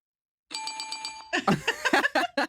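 A bell ding sound effect rings out in a short series of bright, evenly spaced chimes, followed by a burst of lively, louder voices or laughter right after.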